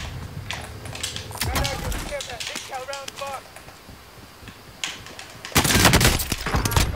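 A shotgun fires in a video game firefight, with sharp bursts of shots coming in clusters, loudest near the end, and a player talking between them.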